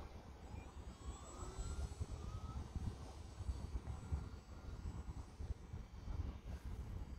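The electric motor of an E-flite T-28 Trojan 1.1 m model plane on a 3S battery whines steadily overhead, a continuous buzzing drone with faint wind noise, no talking.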